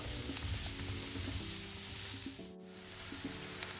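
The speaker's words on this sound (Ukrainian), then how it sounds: "І знову смажимо, поки з печериці не випарується вся волога." Steady sizzling of mushrooms frying in a pan as their moisture cooks off, a continuous crackling hiss with faint stirring clatter, no voices.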